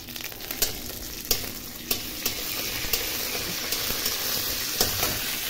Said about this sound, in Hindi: देखिए हमारा तेल गर्म हो गया है, अब हम इसमें डाल देते हैं